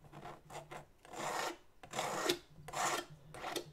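Paint scraped across a textured canvas in repeated rasping strokes, several short scrapes then longer ones, close and fairly quiet with no talk.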